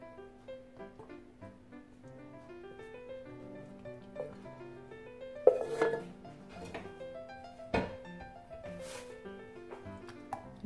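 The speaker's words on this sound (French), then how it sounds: "Je mélange." Mirror glaze ingredients being mixed in a bowl: soft, irregular clinks and scrapes of a utensil against the container, with a few louder knocks, over a background of tonal music.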